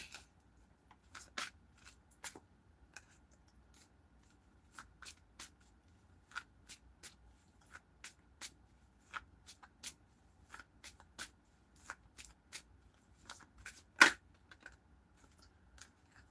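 Tarot cards being shuffled in a quiet room, a steady run of short, crisp riffling flicks spread through the whole stretch, with one louder snap near the end.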